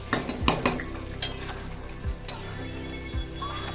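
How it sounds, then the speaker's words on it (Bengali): Potatoes stirred in a pot with a metal spoon: several sharp scraping clanks early on, then slower scrapes over a soft sizzle, close and moderately quiet. "জোরে দিয়ে নাড়াচাড়া করার পর আস্তিম করে তারপরে আমি একটু ঢেকে দেবো"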